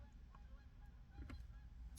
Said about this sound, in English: I don't know if y'all hear the birds.